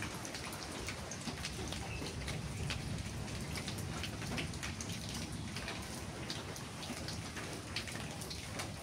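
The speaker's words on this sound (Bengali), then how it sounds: "বৃষ্টি হয়ে গেল একটা মনের মতন।" Steady rain falls on a surface, a dense even patter of drops that continues throughout with no other sounds standing out.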